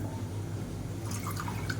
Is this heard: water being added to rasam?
yes